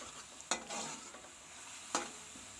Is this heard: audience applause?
no